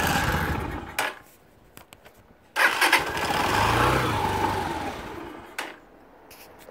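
A Lexmoto Arrow 125 motorcycle engine cranks and catches with the choke on, then runs at a rough, uneven idle before revving briefly, with a few sharp clicks and knocks along the way.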